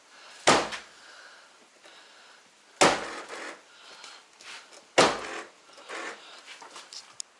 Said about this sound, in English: Door won't shut.